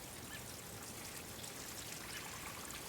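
Water is poured on a newly planted grapevine in a farmhouse garden, a steady, soft rushing stream that runs evenly without pause and with no voices.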